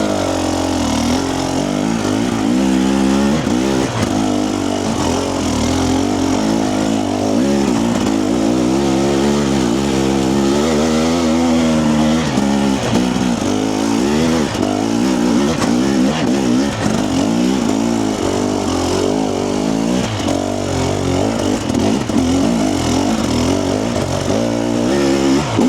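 A TBI motorcycle fitted with a TSP ERM runs and revs close up, a loud continuous engine drone rising and falling in pitch with throttle blips over a steady idle.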